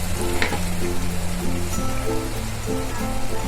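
Onions fry in a pan for paneer tofani curry with a steady, loud sizzle and crackle throughout, as a low tonal hum runs underneath.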